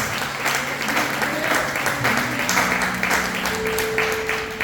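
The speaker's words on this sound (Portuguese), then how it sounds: "As palmas adoram e exaltam o nosso Senhor Jesus nessa noite." A church congregation claps steadily through a worship service, a dense, sustained wash of applause with faint sustained tones from music or voices running beneath it.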